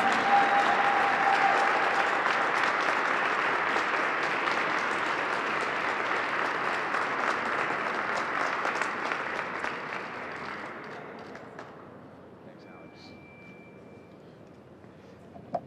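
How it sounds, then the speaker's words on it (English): Crowd applause at a Three Kings celebration in 2019, loud sustained clapping and cheering from a large audience that gradually thins and fades out toward the end. "Let's all give a huge round of applause to our great mayor, Martin J. Walsh"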